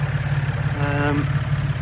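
An Alfa Romeo GTV Cup engine idles with a steady low rumble and even rhythmic pulsing, heard up close. A brief tonal whine rises partway through.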